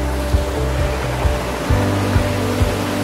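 Pali waterfall roars as a dense, steady rush of deep, flowing water over slippery rocks, with faint low thumps recurring beneath the constant loud wash and no talk.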